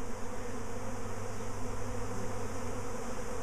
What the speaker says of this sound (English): There are bees everywhere.